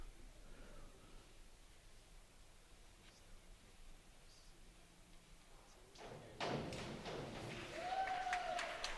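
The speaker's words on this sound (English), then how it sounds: "Gets a nice round of applause." Audience applause breaks out at a high school swimming and diving meet after a dive. It swells suddenly in the last few seconds as a fairly distant, steady patter of many hands over the echoing pool-hall murmur.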